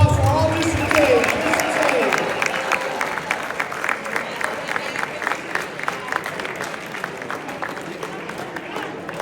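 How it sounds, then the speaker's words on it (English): A crowd at a high school football banquet claps and cheers, loud at first, then the applause thins into steady scattered clapping that continues to the end. "Let's give one more big round of applause for all these kids."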